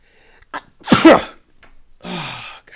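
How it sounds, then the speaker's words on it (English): One close, forceful human sneeze with a short intake of breath before it and a breathy sigh after it, no speech. "I've been sneezing a lot lately."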